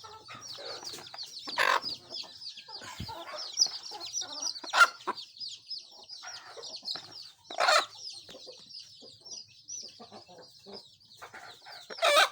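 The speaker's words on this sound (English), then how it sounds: "You can see the chicks over there, they are very weak." Weak brooding chicks cheep in a dense, high, continuous chatter while a hen clucks nearby in short bursts, all fairly faint and close, with no talking.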